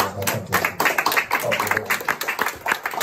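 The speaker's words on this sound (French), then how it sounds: "on acclame très fort" A church congregation claps and applauds loudly during a deliverance prayer service, with dense, continuous hand claps close by, while voices carry faintly underneath.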